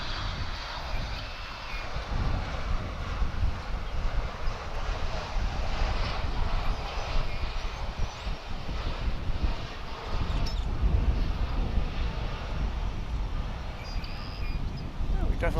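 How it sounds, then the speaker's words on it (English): A UPS Boeing 767 cargo plane arriving from Austin comes in to land at DFW, heard as a sustained, moderately distant jet roar mixed with gusty wind buffeting the microphone. "That's a 767 coming in from Austin"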